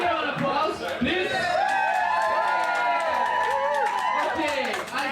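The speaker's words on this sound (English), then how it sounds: "a big round of applause, please" A crowd cheers and whoops for a crab-racing volunteer on a Mediterranean sailing trip, with loud overlapping voices and scattered clapping carrying steadily for several seconds.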